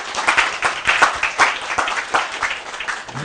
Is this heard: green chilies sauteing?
no